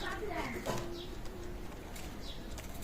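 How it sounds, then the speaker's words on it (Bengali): Teddy pigeons of an Omani bloodline coo softly in a loft, a few low drawn-out calls close by, with someone talking over them. "টেডি কবুতর ওমান ব্লাড লাইনের টেডি"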